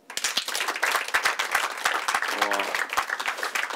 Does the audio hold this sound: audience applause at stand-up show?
yes